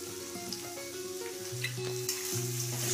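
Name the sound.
stir-frying chopped vegetables on high heat for noodles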